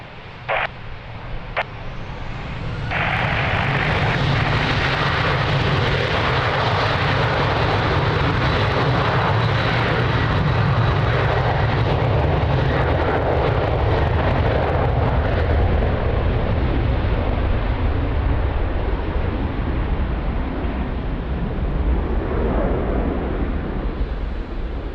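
A jet airliner taking off from runway 02 at Lisbon Airport on a windy day, its engines spooling up after a few clicks into a loud, steady, sustained roar that holds nearby and gradually shifts as it accelerates.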